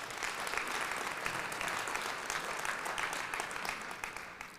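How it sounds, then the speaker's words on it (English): Sustained audience applause fills a hall during a live mayoral State of the City address, dense and steady clapping that continues throughout before tapering slightly at the end. "Give them a round of applause."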